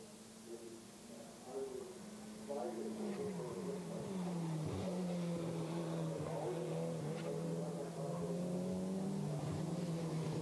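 A GT4 race car accelerates hard at the Nurburgring during qualifying. Its engine note climbs steadily from low to high and holds as a loud, sustained roar, and commentary runs over the top throughout.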